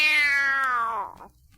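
Excerpt from a novelty song single: a loud, drawn-out meow that slides downward and fades, standing alone without talk.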